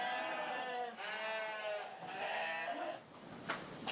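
Sheep bleating in a flock stressed by wolf attacks, several overlapping wavering cries close by, one after another, with a sharper call near the end.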